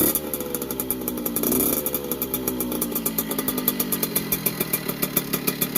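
A 1982 Yamaha YZ50 dirt bike engine running steadily, a buzzing two-stroke drone with a brief rev near the start, then a rhythmic idle close by.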